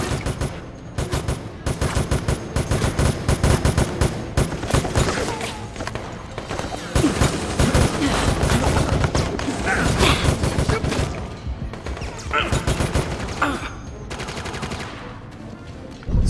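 Rapid gunfire and a grenade blast in the co-op zombie shooter Resident Evil: Operation Raccoon City, with dense, sustained automatic shots and crashes filling the whole stretch, loud and busy, while players shout over it.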